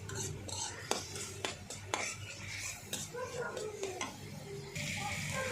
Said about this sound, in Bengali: এখন ভালো করে একটু নেড়ে নেব